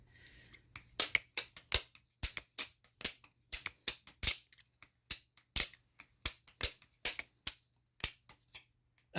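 Squid Industries Squiddy-C balisong trainer flipped by hand, giving a rapid series of sharp metallic clicks and clacks in uneven bursts, close and crisp against a quiet room.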